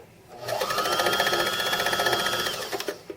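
A sewing machine runs in one steady, fast stitching burst down the center of a pincushion, close and loud for about two seconds before slowing and stopping.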